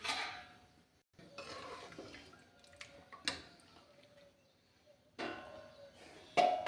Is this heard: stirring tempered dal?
yes